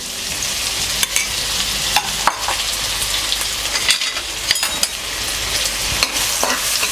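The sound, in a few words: onions frying and being stirred in a pan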